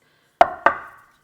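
No-yeast bread dough drops onto a floured wooden cutting board with two soft, close thuds in quick succession, followed by quiet.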